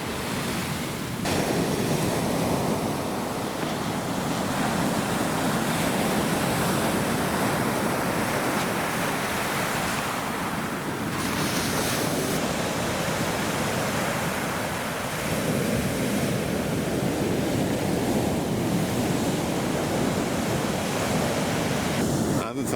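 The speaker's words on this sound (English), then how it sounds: "every now and again there are some larger waves that come through" Ocean waves break and wash continuously onto the beach at Birdlings Flat, New Zealand, a dense, loud roar of surf mixed with wind buffeting the microphone, with brief lulls between surges.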